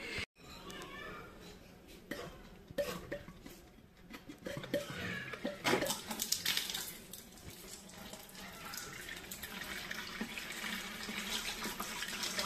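Water being scooped out of a flowerhorn aquarium tank during cleaning, with splashing and trickling that grows louder and steadier midway, close and continuous.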